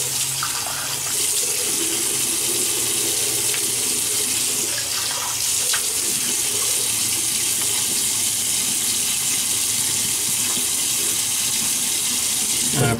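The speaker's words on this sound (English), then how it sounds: "so let me wet the face." Tap water runs steadily into a sink for wetting the face before a shave on six to seven days of beard growth, a continuous close gush with no pauses and no talking.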